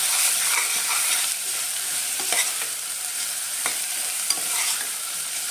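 Food being stirred in a cooking pot over steady frying sizzle, with scraping strokes of the spoon recurring throughout, close and fairly loud, no voices.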